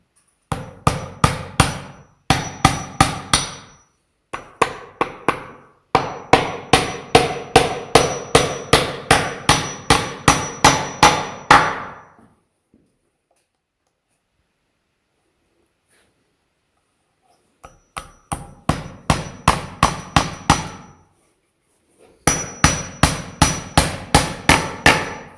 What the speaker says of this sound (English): We're just going to nail these in place with a nice galvanized nail